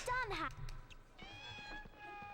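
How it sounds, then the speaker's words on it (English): A house cat meows in a few bending, rising-then-falling cries, close and clear, then a longer sustained meow, used as pixie sounds in the Harry Potter PS1 video game; voices murmur faintly around them. "how do pixies sound? Ah, whatever. I'll just put some audio of my cat in."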